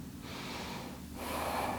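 Slow, deep breathing during a beginner yoga session, one long breath drawn in and out in a quiet room, close and soft.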